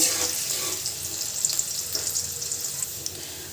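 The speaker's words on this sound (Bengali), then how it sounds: "এখন পেঁয়াজটাকে আর তেজপাতা, গরম মশলাকে একটু ভেজে নেব ব্রাউন কালার করে।" Sliced onion, bay leaf and whole garam masala fry in hot oil, giving a steady, close, bright sizzling hiss with faint stirring scrapes throughout and no voices.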